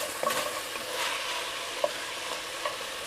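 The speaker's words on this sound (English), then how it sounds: "All right, let her cook. All right, just keep stirring it." Meat frying in a pan, a steady sizzle with a few light clinks and scrapes as it is stirred, close and without talk.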